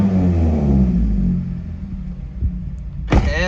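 A Mazda 3 engine, freshly fitted with new spark plugs and still showing a check engine light, gets a loud, close rev that rumbles and then settles toward idle, with a brief sharp rising whine near the end.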